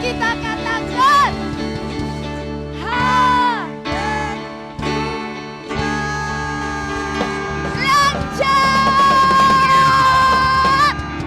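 A children's church group at a Sunday kids' service shouts a loud, sing-song cheer in bursts, with music and an amplified leader's voice mixed in throughout.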